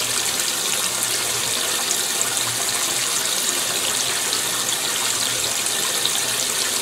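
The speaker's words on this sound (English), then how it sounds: "Probably got about 2 inches of water by now." Water pours steadily into the tub of a GE Infusor GTWN5050M0WS high-efficiency top-load washing machine, a loud, continuous, even hiss and gush that holds for several seconds with no talking.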